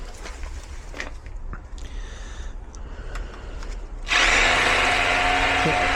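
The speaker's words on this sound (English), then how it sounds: "I'd say give it a wiggle with the drill a bit." A power drill works on a garage door lock: a few clicks and handling knocks first, then the drill starts with a loud, continuous high whine that runs to the end.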